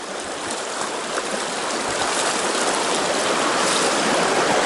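A stream at a trail crossing in the Cohutta Wilderness flows with a loud, continuous rushing and burbling, close by and steady, with no voices.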